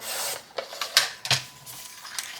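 A sublimation print from an Epson F170 being trimmed down to fit a metal plate, heard as close, dry cutting and rustling with a few sharper snips and scrapes over about two seconds.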